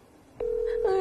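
Telephone dialing tones sound before a phone call: a brief click, then a steady pure tone that holds and shifts into a stacked, higher tone near the end, with quiet background noise underneath.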